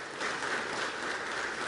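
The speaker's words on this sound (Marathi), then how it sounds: "नाशिकसाठी आणि नाशिककरांसाठी जोरात टाळ्या होऊन जाऊ देत" Audience applause at a public event in Nashik, a short burst of dense, even clapping heard at a moderate distance and fairly quiet, with no talking over it.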